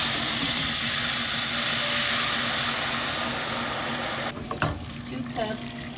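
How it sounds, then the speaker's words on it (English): A kitchen extractor fan runs over a steaming pot of simmering stuffed poblano peppers with shrimp, making a steady broadband whoosh that eases slightly near the end, where a few light clatters of cookware cut in. "I like to turn on the extractor because of all the steam"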